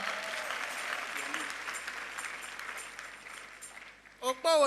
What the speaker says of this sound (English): If you are clapping, make it louder.